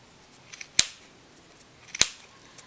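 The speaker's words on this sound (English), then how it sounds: "You're going to do little snips to cut this open." Scissors snipping yarn wound on a pom-pom maker: two crisp, close snips about a second apart, each with a short bright ring, against near silence.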